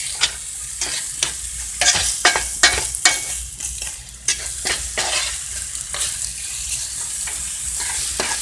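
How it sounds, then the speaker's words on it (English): Food sears in olive oil in a pan, loud close sizzling broken by repeated scraping stirs and clattering utensil strokes in an irregular rhythm, with no talk. "so we're searing these a little bit, making them tender."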